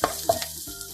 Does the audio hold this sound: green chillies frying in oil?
yes